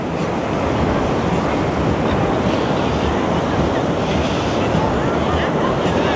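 Ocean surf washing steadily onto busy Seminyak Beach in Bali, a loud, continuous wash of waves with wind buffeting the microphone and no clear talk.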